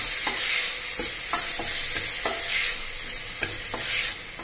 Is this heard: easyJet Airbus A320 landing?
no